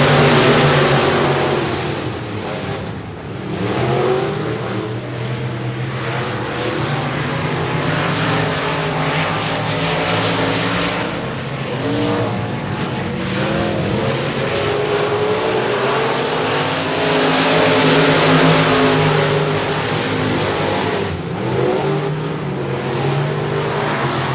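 Race cars roar off together at the start of a heat race at I-37 Speedway, a loud, dense, sustained engine roar that swells and wavers as the field accelerates, steady for the whole stretch.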